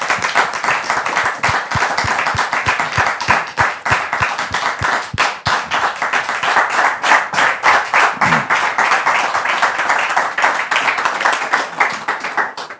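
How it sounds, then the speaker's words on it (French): Loud, sustained audience applause in a hall welcoming a guest onto a stage, dense crisp clapping throughout with a brief low vocal sound partway. "Merci pour vos applaudissements."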